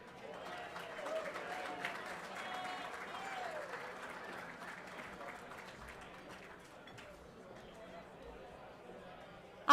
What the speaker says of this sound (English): that's the lamest applause I have ever heard